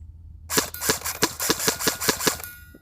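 Airsoft gun firing at Krate Tactical steel targets outdoors, a rapid, evenly spaced string of about ten sharp cracks and metallic pings that starts abruptly and stops just as suddenly, loud and close with no talking.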